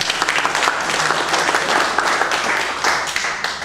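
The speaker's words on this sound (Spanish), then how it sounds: "Otro aplauso para la señora Coleman." Audience applause at a Fairfield Grange Hall gathering honoring Mrs Kathleen Coleman, a dense, steady wash of many hands clapping together, close and loud, for several seconds without talk.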